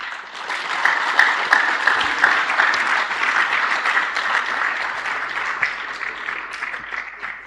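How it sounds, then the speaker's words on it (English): Audience at a scientific conference applauding its guests, a sustained, even roll of many hands clapping, fairly close and steady with no talk over it. "Let's just clap for them."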